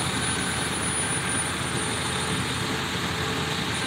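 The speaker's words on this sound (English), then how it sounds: "That's a truck." A truck engine runs steadily at a distance near tornado-damaged trees, a continuous broadband drone with a faint high whine and no voices.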